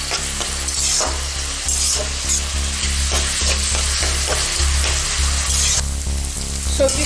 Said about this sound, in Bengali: হাই ফ্লেমেই আমাকে ভেজিটেবলগুলো হালকা সেদ্ধ করতে হবে।